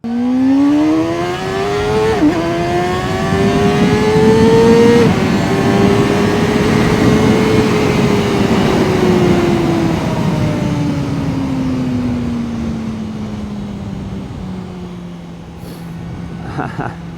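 A sport motorcycle, a Kove 450 RR or Kawasaki ZX-4RR, accelerates hard through the gears with rising engine whine and brief shift dips, then fades as it pulls away, with a voice audible faintly in the background.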